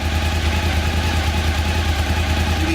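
A Suzuki V-Strom 1000 motorcycle idling up close while its charging output is checked, a loud, steady low throb with an even pulsing rhythm that holds throughout.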